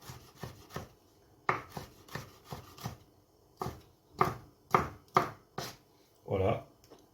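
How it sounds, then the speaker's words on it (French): A knife slices through food on a cutting board in a run of short, irregular chops and scrapes, close and clear, with a few louder strokes near the end. "on va les émincer"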